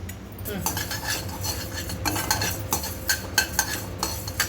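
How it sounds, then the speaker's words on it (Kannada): Coriander seeds being roasted in a pan while making Gujarati dabeli masala, heard as steady metal scraping and stirring with a utensil against the pan, several clinks toward the end and a faint background hum. "ಇದು ಧನಿಯಾ ಹುರಿತಾ ಇರೋದು"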